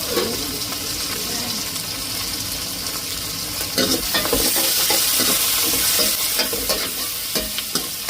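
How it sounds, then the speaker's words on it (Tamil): Onions and green chillies sizzle and fry in hot oil, a steady broadband crackle with stirring scrapes that grow louder and busier in the second half, close up and without talk. "எண்ணெயை ஊற்றி வெங்காயம் பச்சை மிளகாயெல்லாம் போட்டுது"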